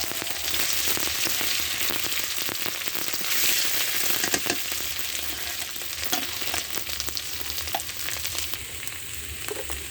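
Eggs and potatoes frying together in a pan give off a loud, steady sizzle with dense crackling and occasional stirring scrapes, continuous throughout with no talking.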